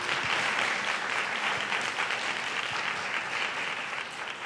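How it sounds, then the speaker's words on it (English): Steady audience applause fills a university honors colloquium evening event in gratitude to the presenters, a dense continuous patter of many hands at even loudness with no voices over it. "If I can just have all of you applaud them in gratitude."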